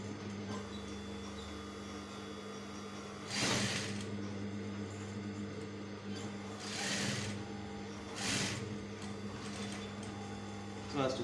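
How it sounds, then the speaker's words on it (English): A sewing machine stitches a shirt collar in short bursts, a close, quiet mechanical whirr that starts and stops between steady background hum, with a voice talking between runs. "I'm going to sew carefully, a little bit inwards."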